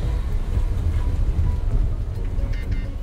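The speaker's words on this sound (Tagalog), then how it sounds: "Umuulan po ngayon." Steady broadband hiss of rain with low rumbling noise throughout, fairly loud and continuous, no voices.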